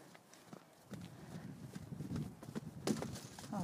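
An anxious mare trotting in a riding arena during schooling, with clip-clop hoofbeats that are faint at first and grow louder and more regular, plus soft thuds and faint background noise.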